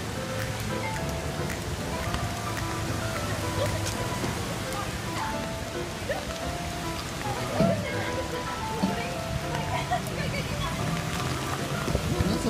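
Heavy rain pours steadily onto a flooded street in Japan, a dense, even hiss of drops splashing on water and pavement, with faint voices and scattered small knocks mixed in.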